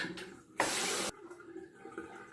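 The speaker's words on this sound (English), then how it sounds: "it's already time to rinse the razor again" Running tap water rinsing a razor during a wet shave, heard as a short, loud burst of gushing water about half a second long, with quieter room sound before and after.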